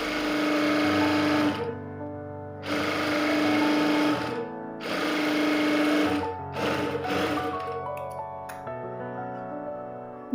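A sewing machine stitches a blouse lining in several long motor runs separated by short pauses, loud and close, with a steady whirring hum and no talk.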